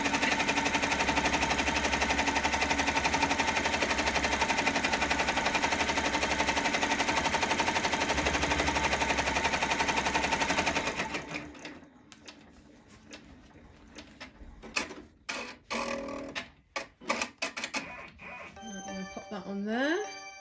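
An embroidery machine stitching a bunny appliqué runs loud and steady with a dense rapid rattling for about eleven seconds, then stops, leaving quieter room noise with a few clicks and handling knocks.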